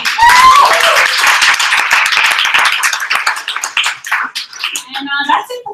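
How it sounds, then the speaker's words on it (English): Audience applause at a literary salon, a dense wash of clapping that starts loud and gradually thins into scattered claps and fading crowd noise. "Another round of applause for me."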